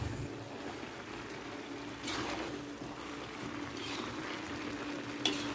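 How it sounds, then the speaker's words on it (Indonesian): Potatoes and carrots braise in a covered pan while a spoon stirs them now and then, giving a soft, steady sizzle with faint scraping strokes throughout. "Kemudian ditutup pancinya, ungkep beberapa menit dan sesekali diaduk."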